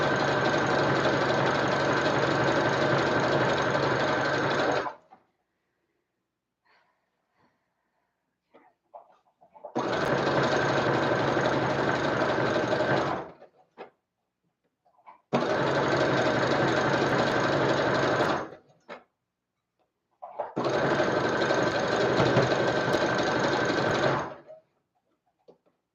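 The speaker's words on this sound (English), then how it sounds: "Probably gonna have to redo that section I just sewed over." A sewing machine stitches costume fabric in four steady bursts of several seconds each, a loud even mechanical whir close by, with silent gaps between runs.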